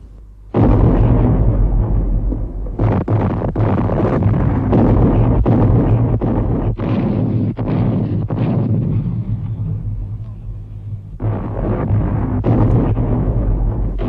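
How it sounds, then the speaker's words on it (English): German heavy artillery bombarding Verdun in World War 1 archival footage: a rapid series of deep, booming blasts and sharp bursts that keep rolling over one another, with a short lull before the shelling resumes. "For 3 hours, the German heavy guns ranged on Verdun itself."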